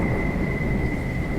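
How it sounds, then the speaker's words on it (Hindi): A thunderstorm sound effect of heavy rain carries a dense, steady rumbling wash with a constant hiss. It is brief and moderately loud, with no voices. "तभी जोर की बारिश शुरू हो जाती है।"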